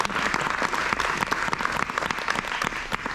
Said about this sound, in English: So let's give a round of applause to Prime Stage for letting me have this opportunity.